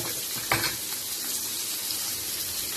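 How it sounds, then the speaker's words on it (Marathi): Onion and green chillies frying in hot oil give a steady, close sizzle, with one brief splash or stir near the start and no voices. "एक कांदा चार मिरची याचा फ्राय करू आणि त्याच्याशी मिक्स करू"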